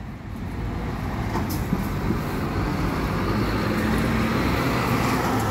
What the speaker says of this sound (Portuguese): Aí o double decker